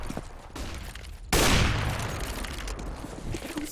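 Gunfire in an esports first-person shooter match, a sudden loud burst of shots and an explosion-like boom over a constant busy game background, followed by scattered softer shots and clatter.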